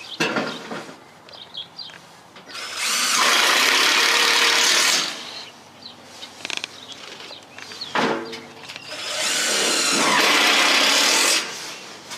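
A power tool fastens metal mobile home skirting in two sustained, loud whirring bursts, each lasting a few seconds, with quieter clanks and handling noise between them.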